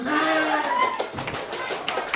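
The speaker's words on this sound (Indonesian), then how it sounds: "Tepuk tangan maksudnya" Children in a primary school classroom clap their hands in a short burst that follows voices, with talking over the clapping.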